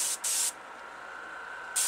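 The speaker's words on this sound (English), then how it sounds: "you can use your air from your gun to, if you're in a big hurry" A Testors Aztek airbrush blows plain air with no paint while a stock car model body is being painted, giving two short close hissing bursts, a quieter steady hiss, then another burst.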